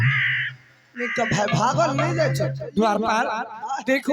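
Harsh crow caws sound at a Maithili nach stage performance, rising over a voice talking loudly and close.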